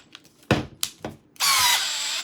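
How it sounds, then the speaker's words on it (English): A Milwaukee M12 FUEL installation drill/driver in drill mode gives a few short clicks and bumps, then spins up into a steady, loud, high whine held for about a second before cutting off. "If I were to hold it down in drill mode"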